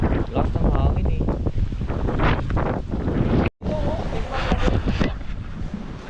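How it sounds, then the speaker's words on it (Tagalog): Strong wind buffets the microphone aboard a small boat at sea, a loud continuous roar with water and engine noise beneath, broken by one brief dropout midway while people talk over it. "Lakas ng hangin eh."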